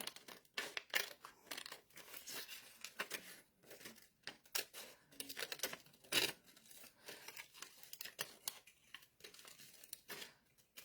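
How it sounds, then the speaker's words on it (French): Scissors cut through vellum paper at close range with quiet, irregular snips and crinkly rustles, some sharper crisp cuts standing out, and no talking over them. "C'est du velin, c'est facile à couper, là."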